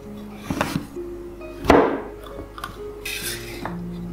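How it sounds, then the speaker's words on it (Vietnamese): Knife slicing pumpkin thinly on a cutting board for steaming, a few sharp chops and clacks spaced irregularly, close and fairly loud with quiet kitchen noise between. "thái mỏng bí đỏ để mang đi hấp."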